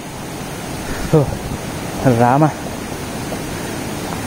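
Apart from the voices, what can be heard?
water flowing at Vibhuthi Falls waterfall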